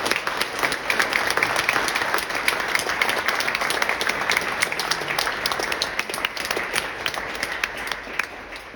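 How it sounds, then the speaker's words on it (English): Steady, sustained applause from an audience at a business gathering, many hands clapping in a thick, even patter at moderate loudness throughout, with no voices standing out. "I just want everybody to applaud and thank everybody else within the business."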